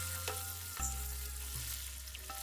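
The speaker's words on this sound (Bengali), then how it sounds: "কাজুও আমি ভেজে নেব।" Washed cashews frying in hot oil left from an earlier batch, a steady sizzle with a few clinks and stirring knocks, close and moderately loud.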